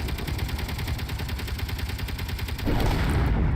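A missile roars in the Space Engineers video game over a steady rapid rattle of automatic fire, then a louder, heavier rumbling blast takes over near the end.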